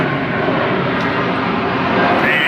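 An airplane flies overhead outdoors, a loud, close, steady engine drone that persists throughout with no break and no talk.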